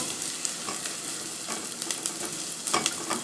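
Onion softening in a pan for a ground-beef lunch dish sizzles continuously, with scattered scraping strokes from stirring rising through the hiss, loudest near the end.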